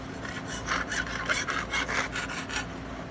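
A jeweler's saw cuts metal on a bench pin in quick, even back-and-forth strokes, about eight rasping passes, close and moderately loud with no voices.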